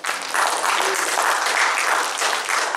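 Members of a church congregation give a burst of hand clapping in praise, a dense, fairly loud wash of applause that swells in waves and holds steady.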